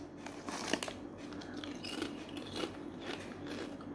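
Original flavour potato chips being crunched up close, a run of dry, crackly bites and crinkles repeating at an uneven pace over a few seconds, with no talking.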